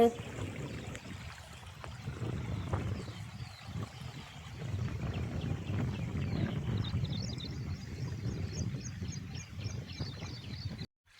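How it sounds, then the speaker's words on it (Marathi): Clear water rushes through a small stream running across farmland, a steady close-up burbling wash that swells midway, with faint bird chirps toward the end. "तर पहा खळखळ पाण्याचा आवाज पण येत आहे."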